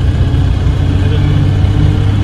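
A newly bought tempo's engine running with a steady, close low rumble, briefly accompanied by someone talking.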